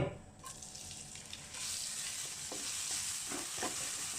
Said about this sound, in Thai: ก็ผัดให้พริกกระเทียมหอมขึ้นมา